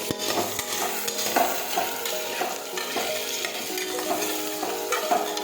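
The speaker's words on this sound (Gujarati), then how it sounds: "હવે આપણે સાતળી લઈશું." Potatoes sautéing in a pan for a Gujarati potato curry, with a steady close sizzle and repeated stirring scrapes and clinks of the utensil against the pan, no voices.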